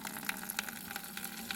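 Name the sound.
child drawing water from traditional mountain water heater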